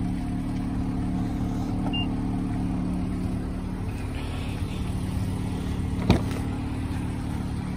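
A 2018 Mitsubishi Outlander PHEV plug-in hybrid SUV sits with its engine running, giving a faint, steady low hum with one short click partway through.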